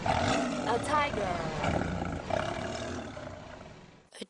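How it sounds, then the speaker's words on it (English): A tiger roars in a film trailer, a rough, drawn-out growl with a couple of swells, heard under speech and music, moderately loud before cutting off sharply. "a tiger."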